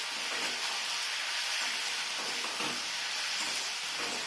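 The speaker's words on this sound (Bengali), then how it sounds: "সুন্দর করে ভালো করে নেড়ে ভেজে নিচ্ছি" Carrots, onions, tomato and green chili sizzle in a pan as they are stir-fried, a steady hissing fry with soft stirring scrapes, close and fairly quiet, no voices.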